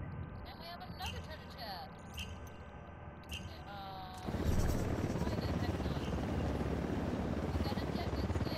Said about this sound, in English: Don't need that chopper